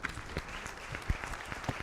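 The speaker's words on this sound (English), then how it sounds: "I think one more round of big applause for him." The audience at the Madras Chamber of Commerce & Industry 189th Annual General Meeting breaks into applause, a brief burst of dense clapping with a few louder close claps.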